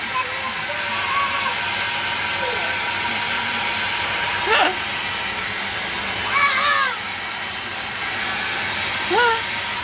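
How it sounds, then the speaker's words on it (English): A hoover runs in a home, giving a steady broadband whooshing drone throughout, with voices talking over it. "It is really hard to use this hoover, I'll be honest."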